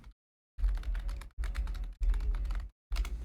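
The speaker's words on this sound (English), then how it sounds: "Sorry about my typing." Rapid clattering keystrokes on a computer keyboard come in three dense bursts separated by short silences, close and fairly loud, with no voices.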